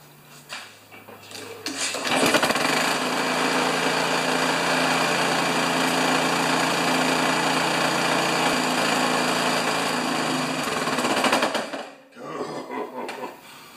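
A Honda HRX217 lawn mower engine, being troubleshot for a fault, sputters, catches, and roars into a steady loud running drone for several seconds before cutting out abruptly, followed by a brief restart.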